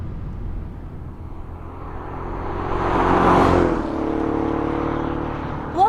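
Hyundai Elantra N being driven fast on a race track, its engine rising to a loud whooshing peak near the midpoint and then holding a steadier drone.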